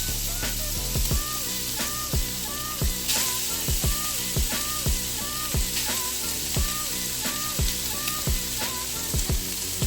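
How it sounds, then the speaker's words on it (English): Ribeye steak searing in a smoking-hot cast iron skillet for a final sear: a steady, fairly loud sizzle and hiss runs throughout, with repeated sharp clicks and taps from tongs or utensils against the pan in a loose rhythm. "for a final sear, we're gonna throw our meat in here"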